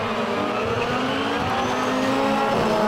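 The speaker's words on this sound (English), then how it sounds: "The ultimate rallycross cars blast away" Rallycross cars at the 2017 British Rallycross Championship round at Lydden Hill blasting off the start line, several engines roaring and revving hard together with tire squeal, loud and sustained with no talking.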